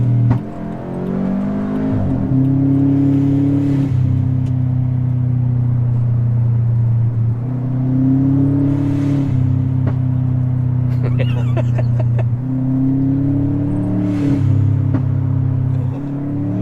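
A V8 engine swapped into a modified Subaru Forester drones with a deep, steady rumble, rising in revs in several repeated pulls as it drives, loud and close.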